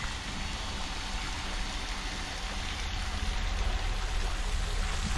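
Garden fountain water spreading out in a breezy outdoor yard, a steady close wash of splashing and trickling that fills the whole clip without pause, with no talk over it.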